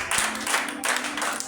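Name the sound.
audience applauding after a call to acclaim God's word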